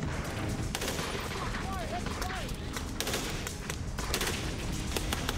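A Browning light machine gun fed from a 250-round side belt fires continuous bursts in a Pacific War battle, with dense repeated cracks over a steady, loud din that runs throughout.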